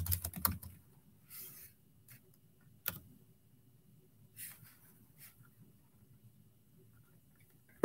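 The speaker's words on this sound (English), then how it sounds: "Let me do some typing." Keys on a computer keyboard are tapped in short irregular bursts, clicks close and fairly quiet with pauses between them over a faint room hum.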